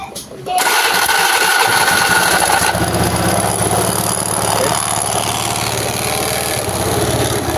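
A carbureted Honda Vario 110 scooter engine starts up and settles into a loud, steady idle close by, its buzzing drone continuous after a brief quiet start.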